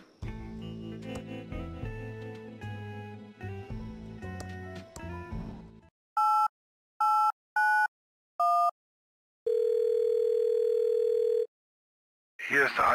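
A beep tone from an answering machine in the Thimbleweed Park video game, a loud steady electronic tone lasting about two seconds, preceded by a few short dial-like beeps and music at the start.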